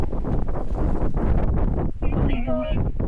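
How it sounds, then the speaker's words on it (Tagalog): Strong, freezing wind in Vietnam buffets the microphone in a loud, continuous low roar, with a voice speaking briefly near the end. "Sobrang hangin na. Sobrang freezing."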